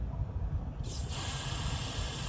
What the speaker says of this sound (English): we're gonna go ahead and test injector